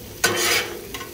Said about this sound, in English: the onions are doing their thing